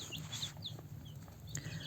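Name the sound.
hen clucking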